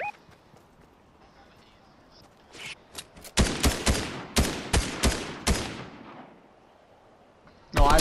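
Gunshots ring out in a Fortnite zero-build trios match, a rapid burst of loud, close shots in quick succession, then a single late shot after a quiet pause, with faint game sound between.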